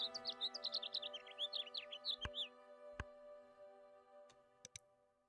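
House finch song in a bird card video game: a rapid, warbling run of bright chirps over a soft sustained music bed, followed by a few sharp clicks and ticks, with no talking.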